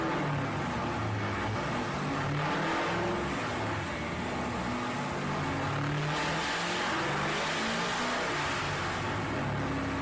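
A car revs hard on a dyno, its engine droning loud and close with rising and falling harmonic pitch as the throttle climbs and eases, and no voices over it.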